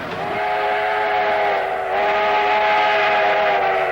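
A passing train sounds its whistle through a town in Birmingham, a loud, sustained tonal blast that dips briefly and then resumes, close and with no talking.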